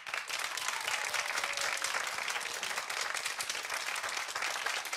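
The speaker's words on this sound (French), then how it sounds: "si vous préférez les tablettes de Quentin, vous allez applaudir très très fort." A studio audience applauds loudly and steadily for the whole stretch, a dense continuous wash of clapping with no voices on top.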